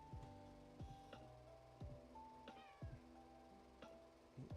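A cat meows repeatedly near a desk, several short, fairly quiet cries spaced about a second apart over a low steady background hum.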